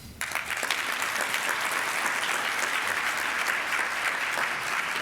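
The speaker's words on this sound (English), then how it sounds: "So as a quick wrap up, round of applause for Liam and Charlie." Sustained applause from a seated audience at a Rotary club meeting, steady dense clapping that starts abruptly and holds at an even level throughout, with no voices rising above it.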